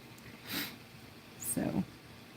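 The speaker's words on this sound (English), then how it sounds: "sorry about the sniffles, guys." Two quick sniffs close to the microphone, a sharp nasal intake followed by a heavier snuffle, in an otherwise quiet room.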